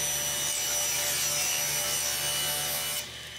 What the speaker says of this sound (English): I'm also cutting 2 strips of 1/2 inch plywood to 2 inches wide as well